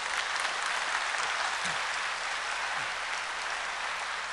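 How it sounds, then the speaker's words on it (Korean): A church congregation gives a big, sustained round of applause to welcome two election candidates visiting a Sunday service, dense and even clapping filling the room throughout. "두 분 한번 인사할 때 큰 박수로 환영해 주십시오."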